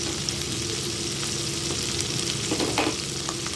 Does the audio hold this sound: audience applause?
no